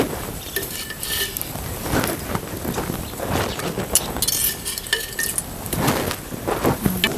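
Hot oil sizzles and crackles in a heated wok, with occasional clinks of a metal utensil against cookware, close and continuous.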